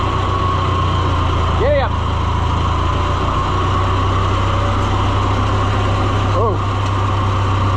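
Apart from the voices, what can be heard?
Oliver 1250-A tractor engine running with choke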